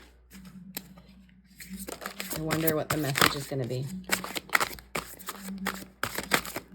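A large pile of tarot cards from many decks being shuffled by hand, bursts of crisp riffling and flapping in quick repeated bouts, close up, with a person talking in between.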